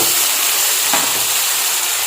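Chopped tomatoes added to hot oil with ginger-garlic paste for pepper chicken hiss and sizzle steadily in a pan, a close, continuous frying sound with no voices.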